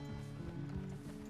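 Hooves clip-clop in a quick, steady rhythm as a horse moves along in Red Dead Redemption 2, faint and mixed with low game ambience.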